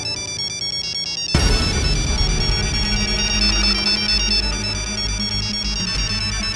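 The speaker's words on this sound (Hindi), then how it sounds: "एक मिनट, उनका फोन है क्या?" A phone ringtone bursts in suddenly after a quiet moment and plays on loudly as a bright, repeating electronic melody.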